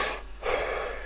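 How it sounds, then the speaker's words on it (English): A person yawns once at bedtime, a brief breathy intake followed by a longer airy exhale, close and alone. "Usually I yawn once at the beginning."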